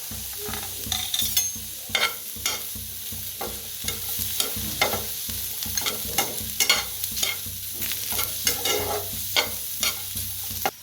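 Chopped onion and grated coconut roasting together in a pan for a village-style chicken dish, a steady sizzle broken by frequent scraping stirs, close and fairly loud, with no talking.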